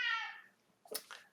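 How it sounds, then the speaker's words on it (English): A cat lets out a drawn-out, wavering yowl, followed by a couple of short, faint rustling knocks. "That's my cat, whom you will be hearing throughout the conference"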